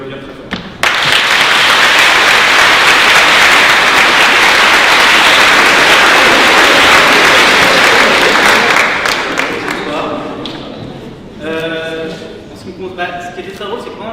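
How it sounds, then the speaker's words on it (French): Loud audience applause fills the room at an eloquence contest event, a dense sustained clapping that fades after about ten seconds as a voice begins speaking over the last scattered claps. "vous pouvez les applaudir très fort."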